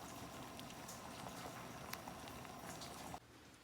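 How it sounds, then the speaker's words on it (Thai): A 1.5 kg whole tilapia simmers in a pot of water, giving a steady, dense bubbling hiss that holds evenly for a few seconds before cutting off abruptly. "ใส่ปลานะครับเอาปลานิลลงไปต้มนะครับ ปลานิลลงไปต้มทั้งตัว นะครับ ต้มจนกว่าจะสุกนะครับ"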